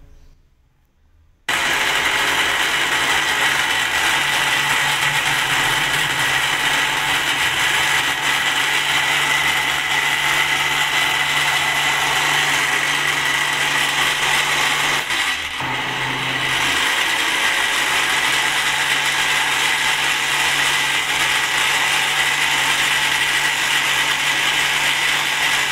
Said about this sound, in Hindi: आम का पल्प हमने इसमें डाली, अब हम इसको जो है ब्लेंड कर लेते हैं।